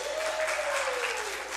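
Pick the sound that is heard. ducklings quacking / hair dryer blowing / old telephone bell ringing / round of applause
round of applause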